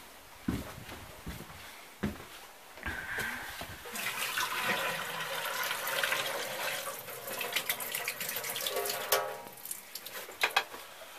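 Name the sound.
water being dumped out of a tea kettle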